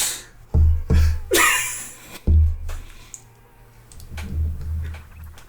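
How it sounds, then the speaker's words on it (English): Comic sound effect of penguins playing drums: a handful of loud, sharp thumping hits in an irregular rhythm, with some clattering clicks between them, close and without talk. "That was the sound of penguins playing the drums."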